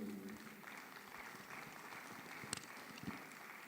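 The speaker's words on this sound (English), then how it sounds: "I think Dr. Oduwole deserves a better round of applause." Audience applause at a business community meeting, a soft, steady patter of clapping from a modest crowd, fairly faint with a couple of sharper claps standing out.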